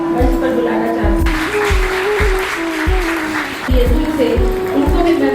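Audience applause at a Hindi-language event honouring a guest, a steady crowd clapping mixed with a loud rhythmic drumbeat and sustained tones, fairly loud throughout.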